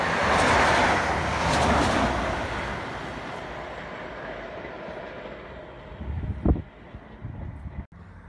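A Grand Central passenger train rolls into Northallerton station at night on its run from Sunderland to London King's Cross, a broad rushing rumble with faint clatter that fades as it passes, ending with a sharp knock.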